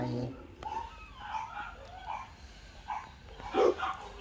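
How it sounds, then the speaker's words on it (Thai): A small dog barks loudly in a few short yips somewhere in an outdoor cactus garden, partly under someone talking. "หมาน้อยก็เห่าเสียงดังเหลือเกิน"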